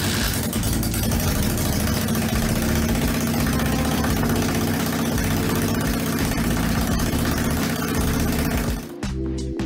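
A Yamaha Virago motorcycle engine, refitted with headers, runs at a fast steady idle, a close, even throb that cuts out abruptly near the end, followed by brief clatter, with no voices.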